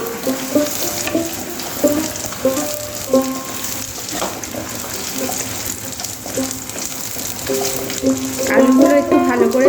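Potatoes fry in hot oil with whole spices, a steady close sizzle that grows louder near the end, with music playing over it.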